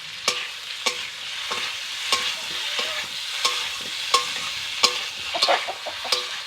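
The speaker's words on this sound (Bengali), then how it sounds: "বন্ধুরা, মশলা ও সবজি খুব ভালো করে কষানো হয়ে গেছে।" Spices and vegetables sauté in a pan for a vegetarian dalia dish, a steady sizzle broken by sharp, regular scrapes and clacks of a spoon stirring against the metal, close and moderately loud, with no voices.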